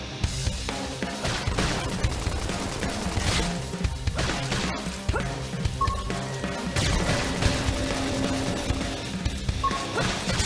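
Dense battle noise from Xenoblade Chronicles X on Wii U: constant crashing gunfire and impacts with no break, loud and busy, a few bright electronic tones cutting through now and then.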